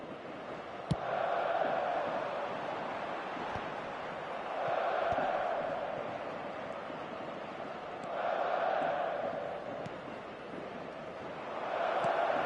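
Stadium crowd applause in the eFootball 2026 video game swells and recedes in repeated waves, a broad wash of noise from a large audience with no clear voices.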